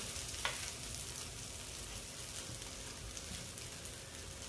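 A butter dosa sizzles on a hot pan, a soft, even frying hiss that runs unbroken throughout at low volume, with no voices.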